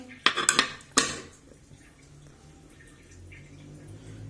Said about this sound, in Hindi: प्रेशर कुकर हमने अब बंद कर दिया।